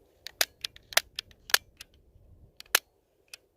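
A BB gun fired to test whether it shoots air, giving sharp, dry snaps and clicks in an irregular string, close and fairly loud with quiet gaps between them.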